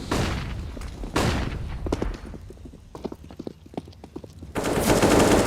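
Gunfire in a Counter-Strike match during a professional esports grand final: loud rapid bursts of shots in several clusters, with a dense sustained burst of firing near the end and no talk over it.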